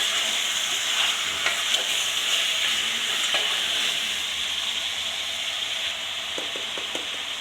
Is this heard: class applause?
no